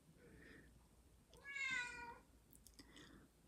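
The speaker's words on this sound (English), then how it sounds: "one of my cats." A house cat meows indoors, a soft call followed by a louder, drawn-out meow near the middle and another short call, faint and fairly close in a quiet room, with no talking.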